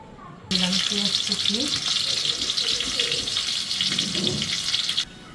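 Onions fry in oil in a pot, a steady, loud sizzle that runs for about four and a half seconds, with a voice murmuring faintly underneath.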